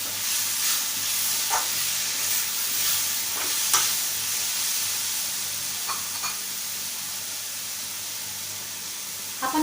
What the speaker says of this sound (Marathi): आपण गॅस स्लो करूया आणि परतवून घेऊया।